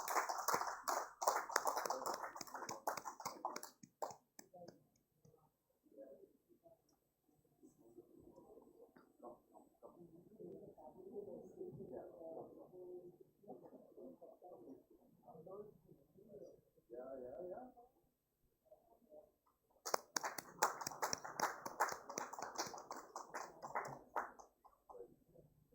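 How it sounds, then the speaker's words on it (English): Audience applause at a sanitation awards ceremony, a dense burst of clapping for several seconds that gives way to a long stretch of quieter sound, then a second loud round of applause near the end. "Let's give them a big round of applause."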